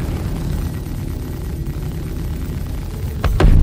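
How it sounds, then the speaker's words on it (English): A ship blown up in the Star Citizen space game: a low, rumbling engine drone gives way to a loud, close explosion burst near the end, with no talk. "Blow this one up."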